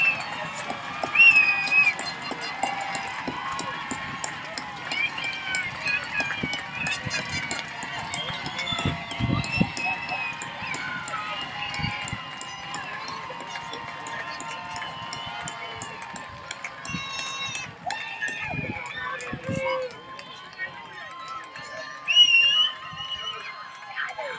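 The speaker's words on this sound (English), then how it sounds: "congratulate with a loud round of applause as they flip their tassels the Wilson Area High School graduating class" Audience applause for the Wilson Area High School graduating class of 2023 at their graduation ceremony, a sustained, fairly distant wash of clapping with scattered whistles and cheers lasting throughout.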